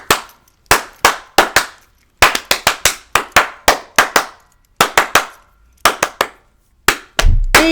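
A single person claps their hands in short bursts of sharp, close, loud claps with brief pauses between groups, ending in a muffled thump.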